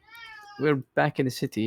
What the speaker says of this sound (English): that's my cat protesting in the background because she's been evicted